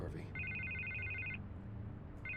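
Telephone ringing in Batman: The Telltale Series video game, a repeating electronic two-tone ring in short bursts, fairly quiet beneath a voice talking.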